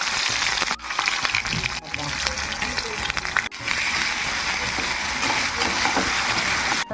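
Garlic paste hits hot oil already seasoned with cinnamon and cardamom, bursting into a loud, steady sizzle and crackle with a few brief dips, while a voice talks over the frying.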